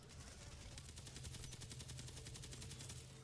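An assault rifle in The Division Resurgence fires a rapid, evenly spaced burst of shots that runs continuously for about three seconds, loud and unbroken.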